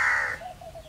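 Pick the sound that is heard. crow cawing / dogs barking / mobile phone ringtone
crow cawing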